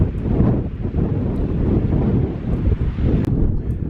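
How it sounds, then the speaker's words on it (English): Strong, cold wind buffets the microphone beside a hilltop reservoir on a winter walk, a continuous low roaring rush with gusty swells and no talking. "It's a bit windy up here."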